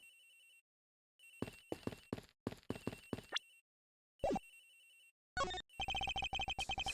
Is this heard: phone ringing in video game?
yes